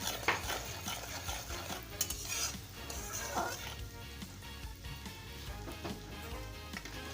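Spice mix with turmeric and salt being sautéed in a pan for a stuffed papad curry, with intermittent spoon scrapes and clinks over a low sizzle, close and fairly quiet.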